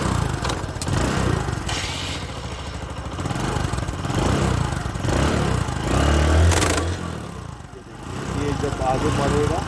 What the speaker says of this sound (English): Now this chain sprocket kit is completely worn out. You can hear the sound here.